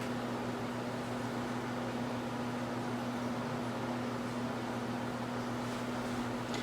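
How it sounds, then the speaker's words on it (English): A freeze dryer runs while pre-freezing, giving off a steady, moderately quiet mechanical hum with a constant airy hiss and no breaks. "I do have my freeze dryer pre-freezing right now at the moment."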